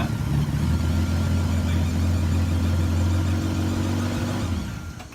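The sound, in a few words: V12 car engine with muffler removed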